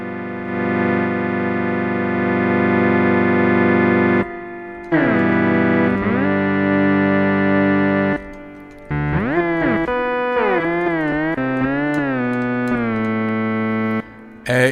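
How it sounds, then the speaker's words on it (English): A sustained Yonac Kaspar synthesizer tone drones, then shifts through gliding, wavering pitches with a washy, echoing reverb tail, loud and close with brief drops to silence. "We'll mix in some of that reverb."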